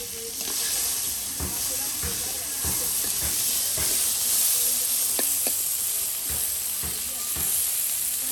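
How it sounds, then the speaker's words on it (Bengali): Rohu fish frying in hot oil, a steady bright sizzle and hiss running throughout with faint clicks and clatter of cooking on top; no one talks. "মাছ ভাজি হবে।"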